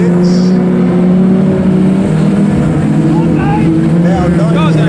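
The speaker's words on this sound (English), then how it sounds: "Superstox away, 20 laps of the circuits." Superstox race cars start a 20-lap heat at Aldershot Raceway, a loud, dense roar of several engines droning and revving together, with a commentator talking over it.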